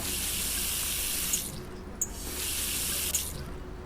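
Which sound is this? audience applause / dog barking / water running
water running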